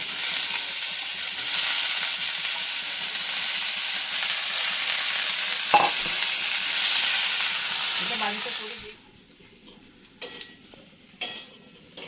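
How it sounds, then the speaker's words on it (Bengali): Chopped potatoes frying with spices and reddened onions in a pan: a dense, even sizzle holding for about nine seconds, then cutting off to near quiet with a few faint clicks. "আমার কুচানো আলুগুলো আমি দিয়ে দিচ্ছি"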